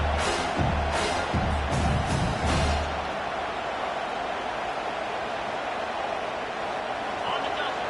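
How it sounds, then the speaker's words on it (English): A stadium crowd at a football game roars steadily and loudly as the defense pins the offense deep in its own end, a dense, continuous wash of noise with low rumbling under it. "The roar of the crowd trying to fuel this defense to keep them pinned in their own end."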